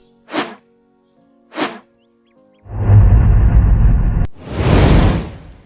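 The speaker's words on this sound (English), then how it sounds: "you click on the plus and the swoosh has been added to the video" Two short whooshing hits followed by a longer rushing swoosh and a bright airy sweep, all added as editing sound effects in a video editor, loud and clean against silence.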